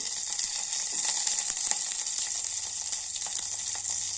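Cumin, mustard seeds and dried chili sizzling in hot oil in a North Karnataka home kitchen, a steady bright crackle with scattered pops, close and continuous.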